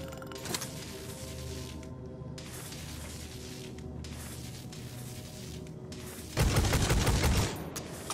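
Bolter fire in the video game Necromunda: Hired Gun, a dense rattling stream of automatic shots running behind other game sounds, then a louder, heavier burst of fire for about a second near the end.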